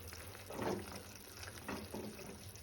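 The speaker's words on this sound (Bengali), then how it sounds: "এবারে আমি চানাগুলো দিয়ে দিলাম ভালো করে নেড়ে চেড়ে দিতে হবে" Kabuli chickpeas being stirred in a frying pan for chana masala, giving a few soft wet scraping swishes over a steady low kitchen hum.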